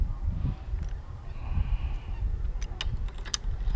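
A goose honking nearby outdoors at a treetop zipline site, several loud rough honks over a rumbling, windy background.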